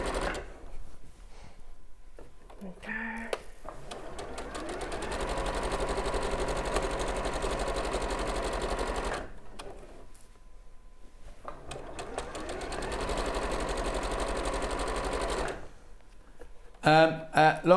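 A sewing machine runs in long steady stitching bursts, worked standing up while quilting, with brief pauses between runs and a short clatter near the end.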